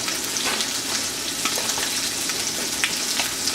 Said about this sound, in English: So the butter over here with the olive oil, I'm going to caramelize these, and I'm putting that in the pot, or in the pan I should say.